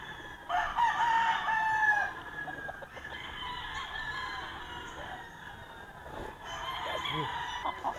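Young roosters (stags) crow at a gamefarm, one strained, drawn-out crow standing out near and loud, with further crowing and clucking from other birds continuing behind it.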